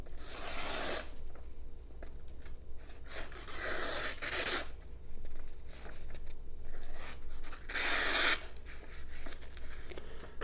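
A Kexmo assisted-opening EDC pocket knife, a budget $10 Amazon model, slices cleanly through material in four or five separate rasping strokes with short pauses between them, close and fairly loud, with no voices.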